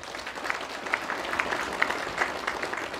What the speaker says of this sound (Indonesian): Tepuk tangan untuk dunia pesantren